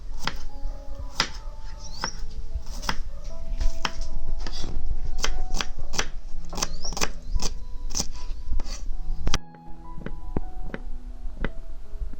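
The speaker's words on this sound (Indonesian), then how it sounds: "Potong bawang merahnya ya tipis-tipis." A knife slicing shallots thinly on a cutting board, quick repeated crisp chops in a steady rhythm, close and clear, ending with a short pause and a few slower cuts.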